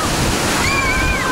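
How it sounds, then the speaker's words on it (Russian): Sea waves breaking along the shore at Bakalskaya Spit in Crimea, a steady loud wash of surf close by with wind across the microphone and a faint voice in the background. "то с другой стороны Бакальской косы вот волны"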